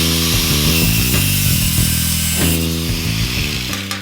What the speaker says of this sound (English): So basically, we cut off the handle.